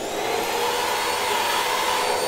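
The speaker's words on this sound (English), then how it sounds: "I will vacuum up any of the sawdust" A vacuum cleaner sucks up sawdust indoors after drilling wood for a budget DIY sim-racing desk, a loud, steady, unbroken whine close by with no talk.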